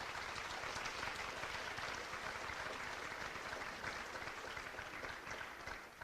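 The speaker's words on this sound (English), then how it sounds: "could you all please give a warm round of applause to all of our coaches who decided to attend this evening" Audience applauding coaches at a high school athletics senior awards evening, with steady, dense clapping from a large crowd that holds throughout at a fairly distant level.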